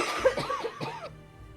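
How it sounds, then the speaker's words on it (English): A person coughs several times in a quick rough burst, close to the microphone, then goes quiet. "Oh, I apologize for the coughing."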